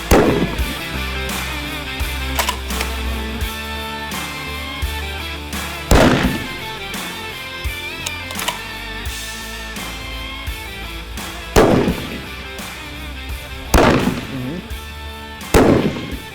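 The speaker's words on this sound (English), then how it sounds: "Spencer, that is some really good shooting." Rifle gunshots ring out during an outdoor scope parallax shooting test, five loud, widely spaced reports with echoing decay over a busy, noisy background.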